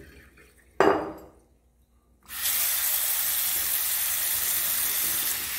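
Salty water that soaked lemon and orange peels overnight being poured out, a brief splash followed after a pause by a steady loud hissing pour that runs to the end.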